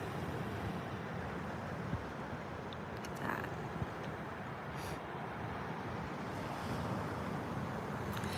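Steady surf washes onto the beach at Fort Lauderdale at sunrise, a continuous broadband roar with wind buffeting the microphone and no clear individual wave breaks standing out.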